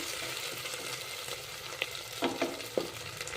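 Cashews and potatoes sizzle in a pan for mint pulao, a steady frying hiss with a few clinks and scrapes of stirring toward the end.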